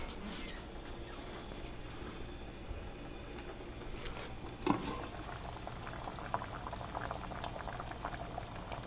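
Water bubbles at a low simmer in a pan while salmon cooks, a faint, steady seething texture with one brief knock partway through and no talk.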